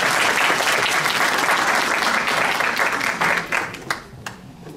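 Sustained audience applause greets a commentator at a 2018 florist arrangement competition in Japan, a dense, even wash of clapping that thins and fades over the final second.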